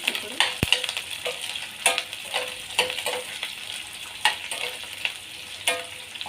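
Curry leaves and green chillies frying in hot oil with onion, a steady close sizzle broken by repeated scraping stir strokes of a spoon at a fairly even pace.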